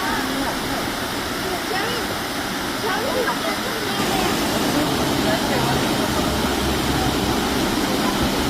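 Multnomah Falls in Oregon roars in a steady, broadband rush of falling water, close and continuous, and it grows a little louder partway through.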